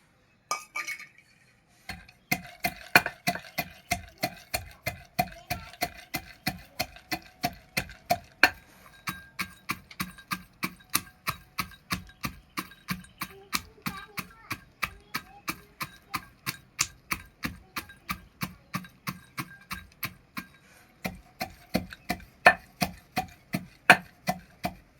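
Peanuts pounded to crush them, making a long run of steady, evenly spaced sharp knocks close by, roughly two or three strikes per second, after a brief silent start.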